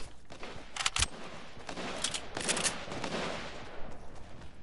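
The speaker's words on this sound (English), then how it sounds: "Then why am I hearing shots?" Rapid bursts of gunfire from a Fortnite match, several clusters of shots in quick succession with one sharp close bang, set against steady game ambience.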